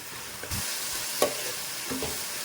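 Tomatoes fry in hot oil for a Nellore-style fish curry, giving a steady close hiss with a few spoon stirs and scrapes in the pan. No voices are heard.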